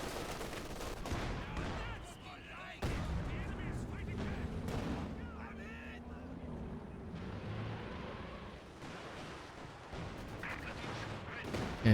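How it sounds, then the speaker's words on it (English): Artillery strike barrage in a strategy video game: repeated sharp detonations and rolling booms land in irregular bursts over a continuous rumbling battle din. "the artillery strike from NiteNite"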